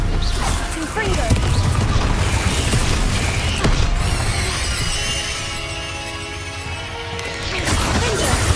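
Confringo and Stupefy spells cast in the video game Hogwarts Legacy bring crashing impacts, creaks and whooshing magic effects, while a voice shouts over the action.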